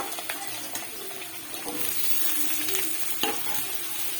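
Cut potatoes fry in mustard oil, a soft, steady sizzle with crackles and the scrape of stirring, heard close and fairly quiet with no one talking.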